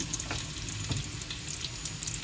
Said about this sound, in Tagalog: O, magigisa na tayo. Ayan, lagyan natin ng oil.